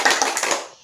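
Hand claps from schoolchildren following a teacher's single-and-double clapping drill, heard as a short crisp burst of claps from a group that quickly fades.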